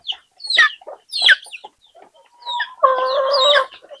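Country chickens on a free-range farm cluck nearby in short repeated bursts, followed by a longer drawn-out squawking call, loud and close.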